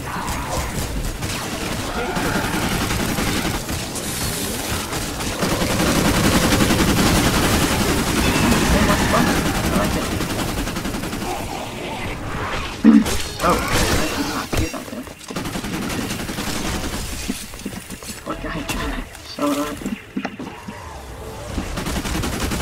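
Video game gunfire rings out in dense, sustained bursts of rapid shots with crashing impacts, fairly loud and continuous for most of the stretch.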